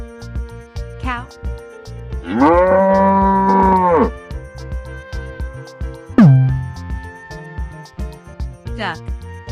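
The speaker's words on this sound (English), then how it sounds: "Cow." A cow lets out a single long, steady moo of about two seconds, loud and close, set against soft background music.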